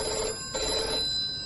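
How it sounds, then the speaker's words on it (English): A telephone rings in a radio drama, a steady, fairly quiet electronic ring with a short break in the middle, heard alone with no voices. "The phone's ringing."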